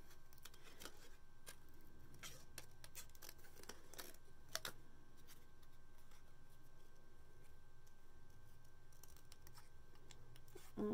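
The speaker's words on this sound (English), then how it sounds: "now I'm going to go ahead and I'm just going to cut this out. Yes, I'm fussy cutting." Scissors fussy-cut a small paper craft piece, producing faint, close snips and crisp paper clicks in an irregular patter over a quiet room, with no talking.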